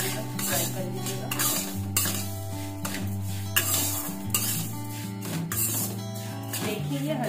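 Vermicelli fries and is stirred in a pan with oil for upma, a soft sizzle with scraping stirs and occasional clinks of a utensil, heard beneath steady background music.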